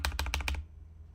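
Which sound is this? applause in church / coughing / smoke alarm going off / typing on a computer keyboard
typing on a computer keyboard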